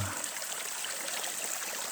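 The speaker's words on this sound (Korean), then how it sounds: "어제 비가 와가지고 산골짜기에 물이 이렇게 졸졸졸졸 내리고" A small mountain valley stream runs after rain, a steady soft trickle and gurgle of water heard alone and close by.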